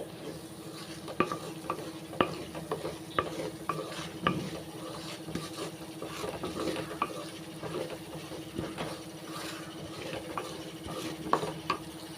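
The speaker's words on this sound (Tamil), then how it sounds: "நல்லா எண்ணெயில் வந்து நல்லா வதக்கிக்கிறணும்" Wood apple for a pickle is fried and stirred in oil, with a gentle sizzle under repeated spatula scrapes and taps against the pan at about one-second intervals.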